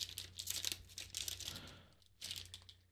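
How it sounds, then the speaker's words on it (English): Crinkling and tearing of plastic wrap as an Upper Deck CFL hobby box of trading cards is cut open and unwrapped, close, quiet bursts of crackling with a short pause before a final rustle. "We'll cut into this bad boy and open some Upper Deck CFL Hobby Box number 2."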